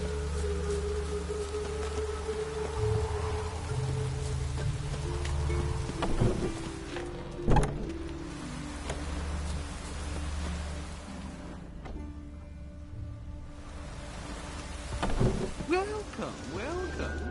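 Steady rain with rolling thunder in The Witcher 3 video game, a continuous hiss under occasional low rumbles, with a louder crack around the middle and characters talking over it at times.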